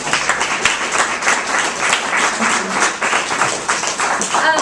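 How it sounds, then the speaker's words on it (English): Audience at an environmental justice event applauds organizing committee members, a steady dense round of clapping throughout, fairly loud with a few faint voices underneath. "And let's give them a round of applause."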